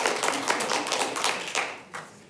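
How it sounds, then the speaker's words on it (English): Scattered applause from a city council meeting audience, a handful of people clapping briefly and faintly, thinning out to a last few claps. "so I won't chastise people for clapping"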